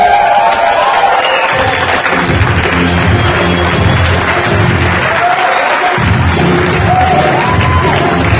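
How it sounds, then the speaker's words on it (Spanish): Loud applause and cheering from a large seminar crowd welcoming a company chairman and chief executive on stage, with whoops and shouts over dense sustained clapping and a low rumble of crowd noise throughout. "pedirles que me ayuden a recibir un fuerte aplauso a nuestro Chairman y Chief Executive Officer"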